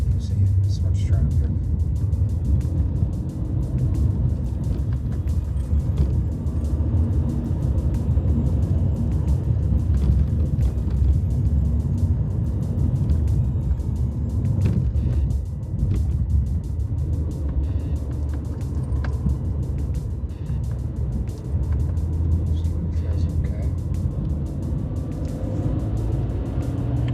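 Steady road traffic rumble with passing cars and heavier vehicles, a continuous low drone throughout, with voices talking over it.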